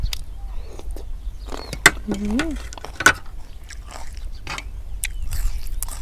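Crunchy chewing of raw vegetables served alongside a seafood-topped dish, with several close, sharp bites and crackles spread through the stretch, while a person talks nearby.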